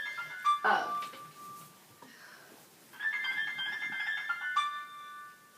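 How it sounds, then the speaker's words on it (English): A phone ringtone plays in repeated electronic tones, pausing briefly before sounding again, with a short burst of speech near the start. "Sorry, my phone is ringing."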